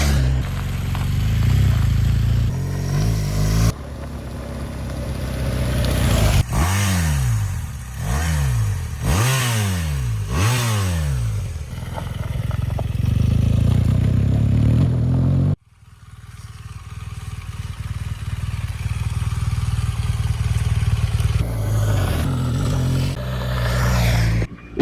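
BMW GS adventure motorcycle engine under way, loud and continuous, with repeated rising-and-falling revs through gear changes, then a steady high-speed drone after an abrupt change in tone.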